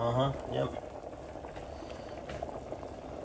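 A pot of water at a rolling boil on the stove while pepper steak cooks, a steady soft bubbling hiss that runs the whole time, with a brief murmur of voice near the start.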